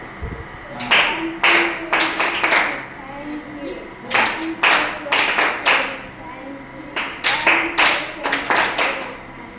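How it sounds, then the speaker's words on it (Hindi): Rhythmic hand clapping in a nursery class, sounding as quick bursts of claps in three or four short groups with brief pauses between, close and fairly loud, with children's and a teacher's voices faintly underneath. "thank you Tali start"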